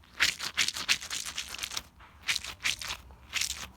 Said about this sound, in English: So first, I got a squishy ball.